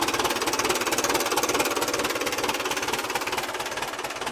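Old Caterpillar 320 excavator diesel engine running, a loud, close, rapid rhythmic knocking chug that holds steady and slightly uneven throughout, with no voices.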